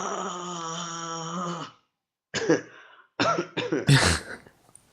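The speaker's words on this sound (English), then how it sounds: "Cough, cough." A sustained throaty vocal sound gives way to a series of harsh coughs and throat clearing, close and fairly loud.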